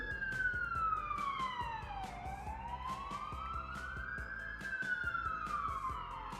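A police siren wails as it passes along a street in Poland, its pitch sweeping down and back up in a slow cycle, fairly distant and quiet over steady traffic noise.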